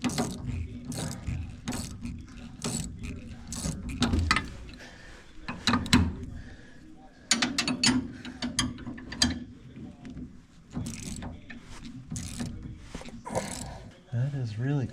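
Wrench ratcheting on a sway bar bushing bolt on a Vanagon front end, with clicking pawl strokes in bursts and metallic clanks, close up, and someone talking intermittently over the work.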